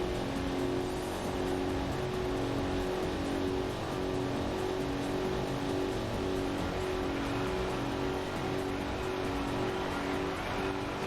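A Corvette C3 straining under acceleration in the Corvette 50th Anniversary racing game, a constant loud engine drone holding one steady pitch with no clear gear changes, no voices.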